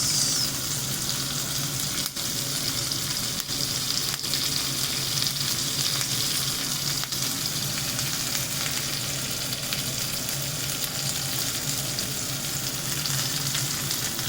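Curry leaves and green chilies with jeera sizzling in hot oil for kanda batata poha, a loud, dense, unbroken crackle that holds level throughout, with a few faint clicks of a utensil.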